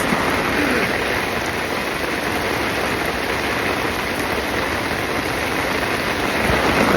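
Torrential rain and wind lash a fishing umbrella beside a carp lake, a dense, steady roar of drumming drops that holds constant and loud throughout, with no pauses.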